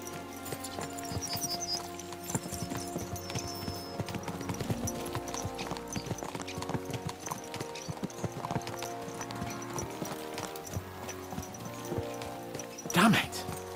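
Hooves of several horses clip-clop in a steady galloping rhythm in a video game, moderately quiet under background music, with a brief louder burst near the end.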